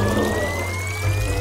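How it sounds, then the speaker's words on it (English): A liquid concoction pours steadily into a face mask maker machine, a continuous close wet trickle with a low steady hum from the machine running underneath. "Let's pour it in the face mask maker machine."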